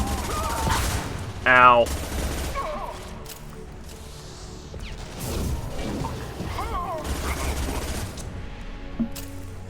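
Mass Effect 2 gameplay with dense bursts of gunfire, impacts and crashes running throughout, while a player talks and exclaims over the din.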